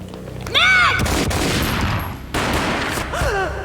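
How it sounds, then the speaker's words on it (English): Gunfire in the video game Max Payne, a sharp booming shot followed by noisy rumbling, with brief rising electronic tones around it. "A gunshot boomed and she fell down in slow motion."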